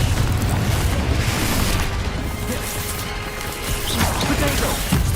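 Confringo blasting spell from the Hogwarts Legacy video game, heard as a dense, continuous rumble of booming, crashing explosion noise that holds steady and loud for several seconds.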